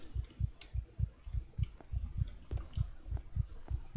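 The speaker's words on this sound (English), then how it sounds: "Why is heartbeat going like this?" A steady, thudding heartbeat from the indie horror game The Night That Speaks pulses in a regular double-beat rhythm, low and close, with no talk over it.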